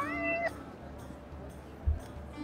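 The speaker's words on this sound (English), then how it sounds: "Why am I talking to a random cat?" A cat meows in the video game Forspoken: one clear, drawn-out mew over ambient game background, followed by a soft low thump.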